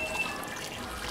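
Water from a pipe trickling and splashing onto soil where bean and maize seeds were just planted, a steady close gush with no voices.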